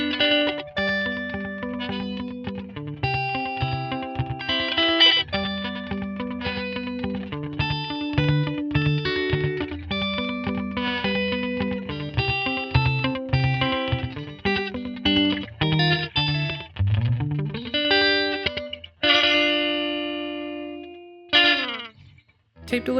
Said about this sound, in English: the recorded sound will play back a short amount of time later, depending on how fast the tape is moving from record head to playback head